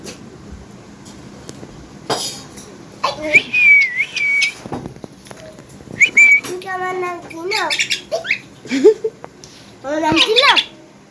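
A common myna in a village imitates human speech and whistles, giving bursts of squawky, talk-like calls and bright whistled notes close by, mixed with people speaking.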